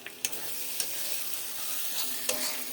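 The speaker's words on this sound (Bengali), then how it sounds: "মশলাটাকে কষাচ্ছি, এবারে মাংসটা দিয়ে দেবো" Spice paste sizzles steadily as it is sautéed in a pan for a meat curry, with a few sharp stirring scrapes breaking through the constant close frying hiss.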